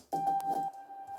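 A glitchy stutter of a chopped-up, heavily delayed piano note, a quick burst of repeats sustaining on one pitch before trailing off quietly.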